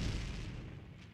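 A cannon booms in a multiplayer strategy video game match, one deep low rumbling blast that decays over about a second, heard alone without talk.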